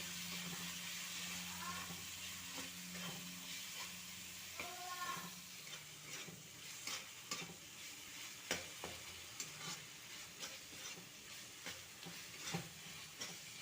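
Turmeric, Kashmiri chili powder and sugar sauté in hot oil in a pan for dhokar dalna, a steady soft sizzle broken by scraping stirs and clicks of a spatula, close and quiet.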